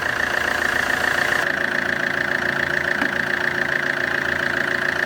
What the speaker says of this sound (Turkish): Araca marş yaptık. Son sesi bu şekilde.